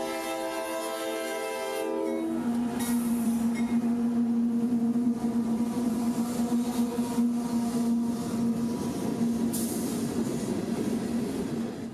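A CSX phosphate freight train rolls past at 78th Street, a loud continuous rumble of railcars with a sustained horn-like tone running through it and occasional wheel squeals, steady throughout.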